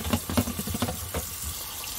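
Cold water poured into a pot in a kitchen, an uneven splashing gush with a few louder bursts, moderately close.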